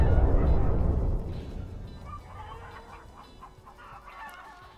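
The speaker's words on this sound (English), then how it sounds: "Chickens." Chickens cluck in the Minecraft Story Mode video game, a burst of fowl calls that starts loud and then fades to softer scattered clucks.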